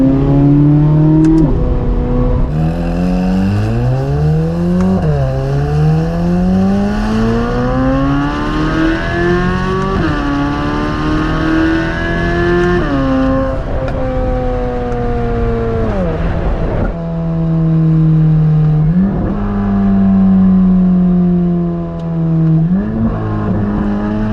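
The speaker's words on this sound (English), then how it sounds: "today we're just going to listen to that engine" A 2024 Chevrolet Corvette C8 Z06 engine revs repeatedly, its exhaust note climbing in pitch through several long pulls before dropping back to a deep, throbbing idle.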